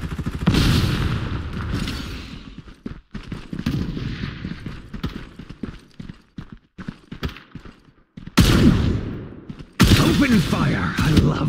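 Video game gunfire in Farlight 84: loud, close rapid bursts and volleys of shots, broken by short pauses, with game effects and occasional talking mixed in.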